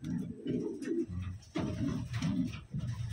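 Taiwanese Wantai pigeon hen with purple eyes cooing close by, several low throaty coos in short repeated phrases with brief pauses between them.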